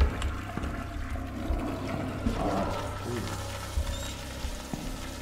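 A toilet flushes in a bathroom-themed video game, a rushing, gurgling water swell filling the middle of the clip over a steady low background.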